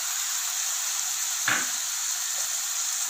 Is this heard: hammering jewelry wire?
no